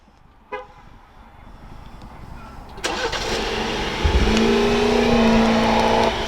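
A 2024 Jeep Wrangler Rubicon with a 2-liter 4-cylinder engine and single exit exhaust cranks and turns over, then settles into a steady idle hum, preceded by a short beep.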